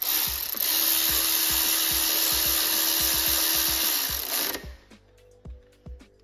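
Milwaukee power tool tightening bolts on a Mini Cooper during a turbo cartridge replacement: a loud continuous high whine for about four seconds with rapid rattling impacts, then stopping, followed by a few scattered clicks and clunks.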